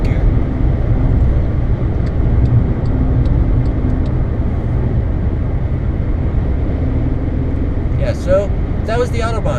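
A Skoda Fabia cruises fast on the German Autobahn in fifth gear, a loud steady cabin drone of engine and road and wind noise throughout, with a voice speaking briefly near the end.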